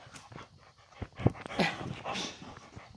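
A dog whimpers and snuffles close by during a cardboard Titanic model build, soft short whines and breathy panting sounds with small handling noises around them.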